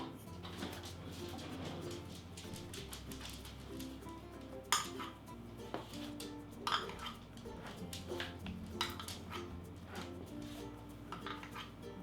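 A spoon scraping and clinking against a bowl while scooping out a cup of shortening, with soft dish clatter and intermittent metallic taps, close and quiet, with someone talking in parts.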